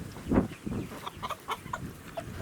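A rooster and a hen forage together on a farm, giving a series of soft, close clucks and short murmuring calls over quiet outdoor background.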